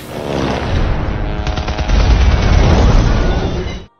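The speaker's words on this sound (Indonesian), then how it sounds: "Lyuda dan Boris berlindung saat rentetan tembakan terdengar tanpa henti." Sustained bursts of rapid gunfire rattle continuously at close range, loud and dense with booming low impacts, as a war sound effect lasting a few seconds before cutting off abruptly.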